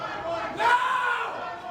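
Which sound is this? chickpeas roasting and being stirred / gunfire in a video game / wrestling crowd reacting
wrestling crowd reacting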